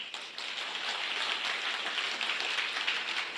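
An audience claps steadily and densely throughout, a continuous wash of many hands at moderate distance with no pauses and no speech.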